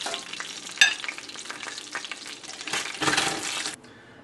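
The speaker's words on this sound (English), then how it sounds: "we have our nicely pan-fried jiaozi or gyoza" Jiaozi dumplings sizzling as they pan-fry, with a steady crackle and a few louder bursts of spitting oil that stop abruptly near the end.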